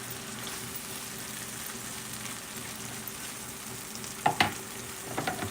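Canned corned beef and cabbage fry steadily in a pan with a quiet, constant sizzle, and a few louder clatters and stirring bumps come near the end.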